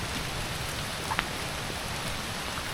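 Rain falls steadily through dense Sahyadri forest on a trek to Nageshwar, an even, continuous patter on leaves and ground with no voices.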